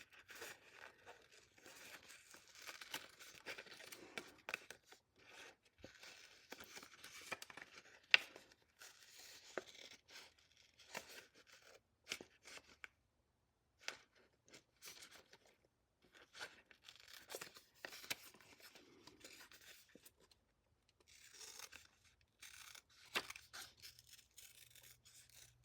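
Scissors snip through yellow cardstock in quick, repeated cuts, a rapid string of crisp clicks and rustles that runs close and fairly quiet, with short pauses between bursts of trimming.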